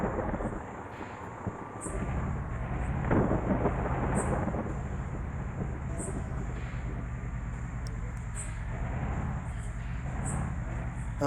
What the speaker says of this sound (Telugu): వర్షం పడుతుంది, మళ్ళీ స్టార్టింగ్ అయింది వర్షం.